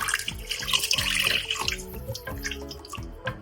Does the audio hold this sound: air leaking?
no